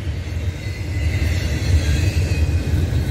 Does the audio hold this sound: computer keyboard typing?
no